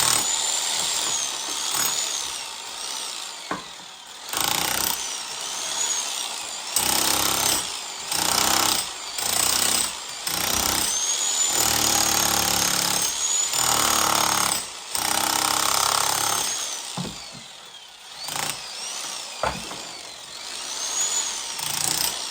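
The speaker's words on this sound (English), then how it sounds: "Rake them joints out." Power tool raking out mortar joints in a brick fireplace, loud close jackhammer-like chattering in repeated bursts with brief pauses between passes.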